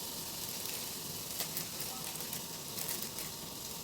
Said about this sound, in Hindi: अब पहले मैं इसमें बटर डालूँगी। ठीक है, तो पहले बटर बहुत ज़्यादा एकदम धीमी आंच में रखना है